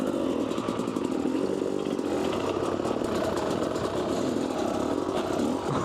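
A Yamaha Blaster ATV engine runs steadily and loud throughout, a continuous buzzing two-stroke drone with a fluttering rhythm, close by on an enduro trail with no talk.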